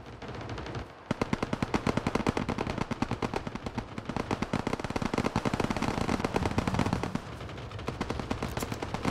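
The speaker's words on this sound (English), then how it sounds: "It's the noise of all these guns." Rapid, continuous automatic gunfire from the video game PUBG rattles almost nonstop, loud and close, with a brief pause near the start.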